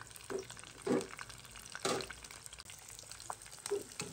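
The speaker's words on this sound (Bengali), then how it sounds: "তো আস্তে আস্তে এগুলো ভেজে নেই।" Snacks fry in hot oil in a quiet kitchen, a soft steady sizzle broken by a few brief louder bursts and clinks as the pieces are moved around.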